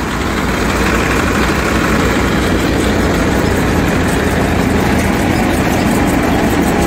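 An Eicher 333 tractor drives a thresher at 1200 RPM, giving a loud, steady, continuous engine drone with mechanical rumble and whir throughout and no voices.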